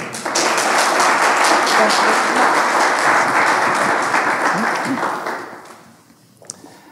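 Audience applause at a smart city project follow-up event, a steady dense wash of clapping from a crowd that holds for about five seconds, then tapers off and fades to near silence.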